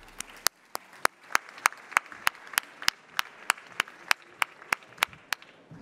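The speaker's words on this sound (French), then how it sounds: "je vous demande d'applaudir Florence Chafiotte" Steady, evenly spaced claps ring out one after another at a Paris marketing conference as a Monoprix marketing director is welcomed, sharp distinct strikes in a regular rhythm rather than a dense crowd roar.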